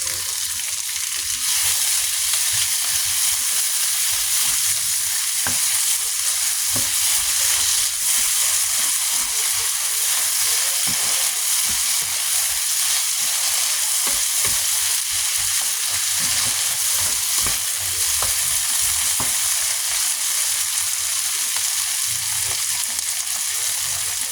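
Tomatoes fry in a pan for pinakbet, a loud, continuous close-up sizzle with occasional soft crackles that runs steadily with no talk.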